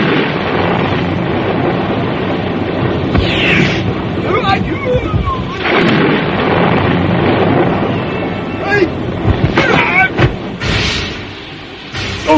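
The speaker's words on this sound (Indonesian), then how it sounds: "Sementara hujan turun, petir dan pijar menggelegar." Thunder rumbles and cracks during rainfall in a dramatized radio drama scene, loud and continuous, with sharp bursts breaking through a dense roar of rain.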